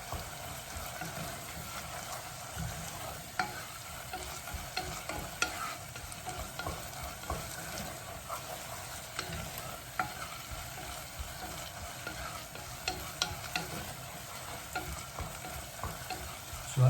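A wooden spoon stirs mushroom, asparagus and courgette risotto in a pan, giving a soft continuous scraping and gentle sizzle with small bubbling ticks, close by and steady throughout with no one talking.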